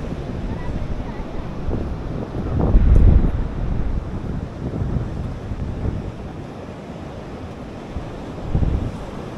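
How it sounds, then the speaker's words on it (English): Ocean waves breaking on the beach at Blouberg, Cape Town, low rolling surges of surf with heavy wind buffeting the microphone, swelling in a few distinct bursts. "Look at the waves."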